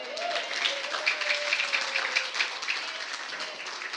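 Steady applause from a church congregation, dense and even clapping holding at moderate loudness throughout with no voices on top.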